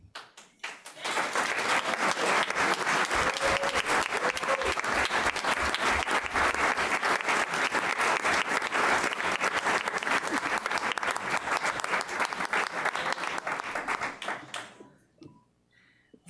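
An audience at a school board of education meeting bursts into loud, sustained applause. The clapping stays dense and even for about fourteen seconds, then quickly dies away.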